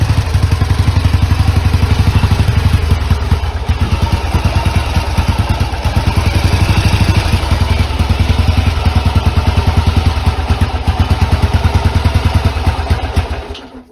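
A small engine sputters and stutters as it struggles to keep running, a loud, close, continuous uneven chugging with rapid irregular pulses that surge and falter before fading at the end.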